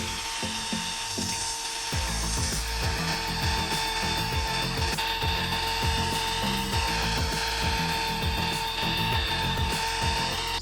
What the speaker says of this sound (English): I just grabbed the SDS drill and plugged it into the mains